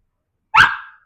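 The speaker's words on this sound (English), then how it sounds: "he let out that little bark" A dog gives one short, sharp little bark that rings briefly and fades, loud and close, alone against silence.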